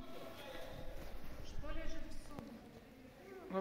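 A horse walks during a therapeutic riding session, its hooves giving soft, regular clip-clops under a voice and other background sounds.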